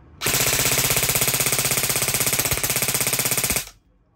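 An Army Armament R603B replica gun fires one sustained full-auto burst of about three seconds. The shots come as a rapid, even, loud mechanical rattle, followed by a short quiet tail.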